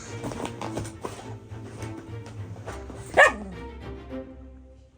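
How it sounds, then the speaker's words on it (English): A dog barks and yips from inside a crate amid rustling and shuffling, with one sharp, louder bark near the end that trails into quieter movement. "Sheila was messing around in her crate and making a whole bunch of noise, and Rusa had something to say about it."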